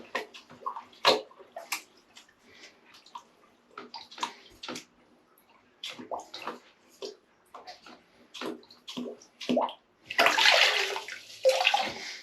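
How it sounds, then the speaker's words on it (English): Water sloshes and splashes in repeated bursts as a Fluval FX4 aquarium canister filter sponge is squeezed and dunked in a bucket, ending in a louder, sustained rush of pouring water. "we'll give that a good squeeze out in the bucket of water."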